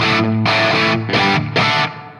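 A Fender Player II Stratocaster played through a Plexi amp model on a Tone Master Pro rings out in three or four distorted chord bursts, each sustained then cut, alone without talk.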